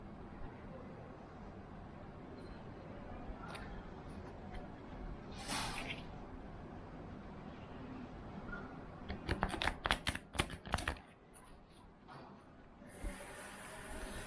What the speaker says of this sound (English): So while I shuffle my cards